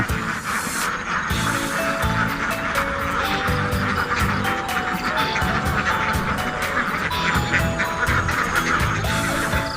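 Ducks on a Thai duck farm of about seven to eight hundred birds quack steadily in a dense, loud chorus, with sharp individual calls cutting through the constant flock noise.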